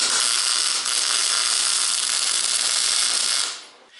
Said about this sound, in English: so I'll just weld it all the way around.